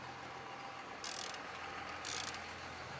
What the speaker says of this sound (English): gives me a clear room to work with my ratchet wrench back and forth